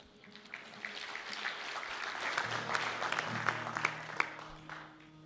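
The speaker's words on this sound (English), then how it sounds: "You can applaud." An audience at a live music show with singer-songwriters applauds a song's co-writer: a steady wash of clapping that swells and holds for about five seconds, with a few sharper claps near the end before it fades.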